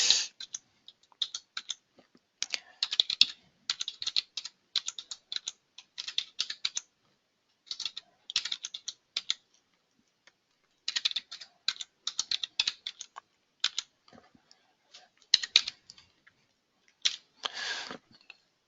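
Fingers type on a computer keyboard in quick, irregular bursts of crisp clicks separated by short pauses, close and fairly quiet, with no talking.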